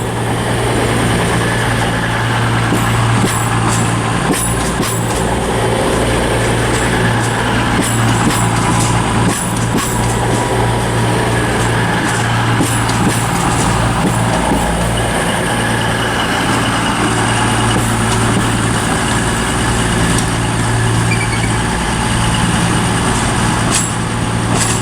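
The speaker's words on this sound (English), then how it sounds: "In other words, 220-007, terminating in on platform 3, I think, at Aberdeen." A Class 220 diesel multiple unit, 220-007, idling at platform 3 in Aberdeen: a loud, steady engine drone with a constant low hum that runs unbroken throughout, with no talk over it.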